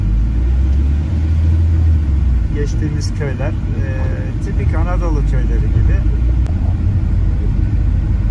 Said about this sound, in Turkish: Arabamız yol almaya devam ediyor.